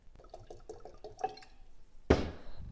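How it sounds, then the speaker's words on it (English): Cold water poured into peach tea: a few soft drips and light clinks, then a sudden splashing pour into a container that carries on to the end, close up. "you pour 1 quart of cold water inside"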